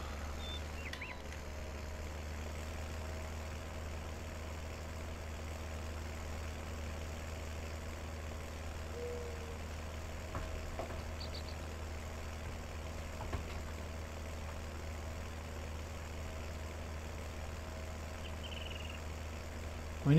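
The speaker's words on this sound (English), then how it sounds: "Oh, we're in this tractor." A tractor engine idles steadily in Farming Simulator 19, a low continuous rumble that holds even for the whole stretch, with no speech over it.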